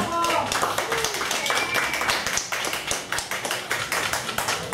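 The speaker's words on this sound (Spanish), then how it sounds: "Fuerte los aplausos para la esposa." Guests at a 50th birthday party applaud loudly for the host's wife, a dense, steady burst of clapping close by throughout, with a voice briefly heard at the start.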